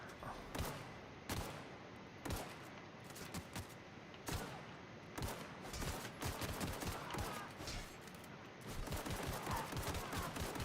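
Bursts of sharp, loud gunfire crack in irregular clusters during combat in The Outer Worlds, with repeated rapid shots separated by brief pauses.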